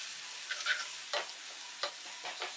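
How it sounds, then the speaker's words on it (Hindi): Spices fry with a quiet, steady sizzle as yogurt is stirred in, with several short scraping strokes of the spoon spaced about half a second apart and no talking. "हम इसमें दही डाल देंगे और दही डाल करके हम इसको अच्छे से मिक्स कर लेंगे"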